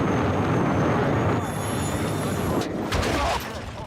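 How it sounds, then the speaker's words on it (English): Jet aircraft approaching in the video game Battlefield 6, a continuous loud engine roar with rising whine tones that swells, then gives way to bursts of noise near the end. "Jet's coming in on my 6 here."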